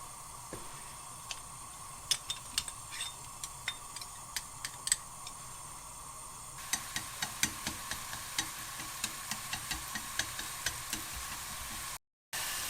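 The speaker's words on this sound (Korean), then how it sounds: "절여진 오이를 떠서 볶아줍니다." Salted cucumber stir-fries in an oiled pan with a steady, soft sizzle, punctuated by light regular ticks of a utensil against the pan that grow more frequent partway through.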